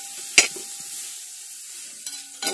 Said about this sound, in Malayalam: നല്ല രീതിയിൽ ഒന്ന് വഴച്ചെടുക്കണം എല്ലാം കൂടി.